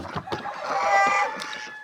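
Farm ducks calling excitedly in a loud, close, overlapping burst of quacking that lasts under two seconds.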